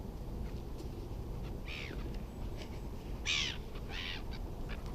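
Crows caw a few times at a woodland feeding spot where scraps of sausage roll are being thrown, short harsh calls rising over a steady noisy outdoor background with no talking.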